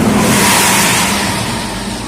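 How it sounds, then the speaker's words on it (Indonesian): A Putra Luragung bus passes close by with its engine revving, a loud, broad roar that stays strong and then eases slightly as the bus moves on. No talking is heard. "Ya, melintas nih ada bus Putra Luragung."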